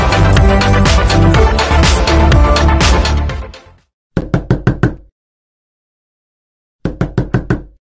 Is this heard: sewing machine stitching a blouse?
no